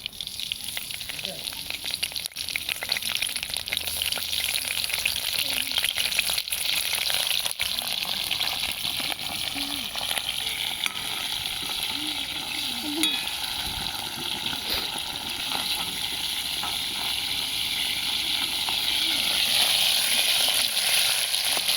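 Curry leaves sizzle and crackle in hot oil while frying for an anchovy (dried fish) curry. The steady, loud frying hiss continues unbroken close by throughout.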